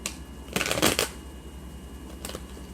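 Tarot cards being shuffled close by in two quick riffling bursts, a longer papery flutter followed by a shorter one, with no talking.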